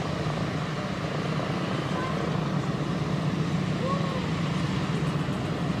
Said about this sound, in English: So we'll see them taxi off and take off.